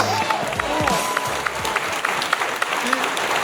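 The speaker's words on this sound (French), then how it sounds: "Applaudissez-vous" Audience at a sold-out comedy show applauding steadily, a dense wash of clapping with crowd noise and voices talking over it throughout.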